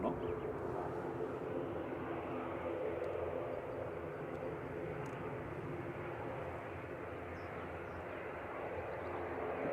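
An ATR turboprop airliner lines up on the runway at Manchester Airport, a steady distant engine drone and broad rumble that holds level throughout with no voices.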